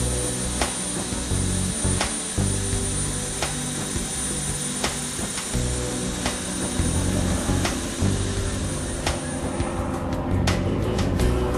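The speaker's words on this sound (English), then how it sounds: "Coming in by the helicopter like this" A helicopter drones steadily overhead, a continuous throbbing engine roar with rhythmic rotor pulses holding fairly constant throughout, at a goose hunting lodge in Manitoba.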